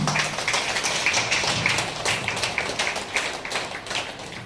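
An audience at a large meditation gathering claps together, a steady, dense patter of many hands at moderate distance with no talk over it.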